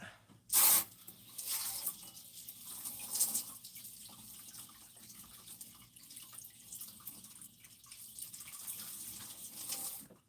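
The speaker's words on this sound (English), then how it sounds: "I'm just going to rinse this out." Water runs and splashes while a gold pan is rinsed out during gold prospecting. A sharp splash comes early, then a soft, steady trickle and sloshing continue, fairly faint and with no talking.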